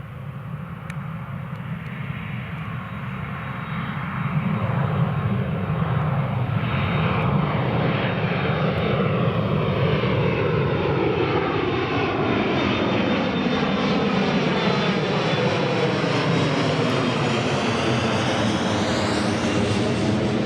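A KLM airliner takes off at Newcastle International Airport, its jet roar building loud and steady, then sweeping in pitch as the aircraft climbs away over twenty seconds.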